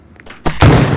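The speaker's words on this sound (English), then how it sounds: "Grenade launcher." A grenade launcher fires in a video game, giving a sudden loud boom that bursts out and lingers for a moment after a brief quiet lead-in.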